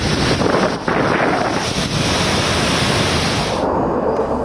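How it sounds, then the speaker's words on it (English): Strong cyclone winds on the Kerala coast during Cyclone Tauktae, loud, continuous roaring gusts buffeting the microphone, with a rushing surf-like wash underneath and no voices. "strong winds"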